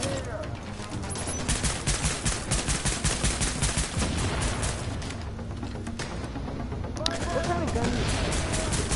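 Rapid gunfire from a weapon in the video game The Division, dense bursts of shots in quick succession with a brief lull midway, fairly loud, with a voice talking over parts of it.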